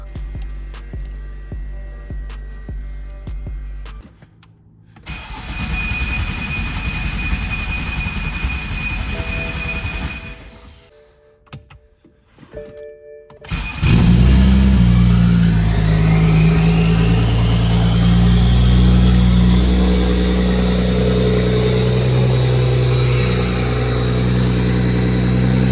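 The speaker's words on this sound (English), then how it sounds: "prime the car and start it" A BMW 335i with an N54 twin-turbo engine, fitted with a twin-scroll turbo manifold kit and an open dump, is primed with a short buzz and then cranks and fires into a loud, steady, close-up idle.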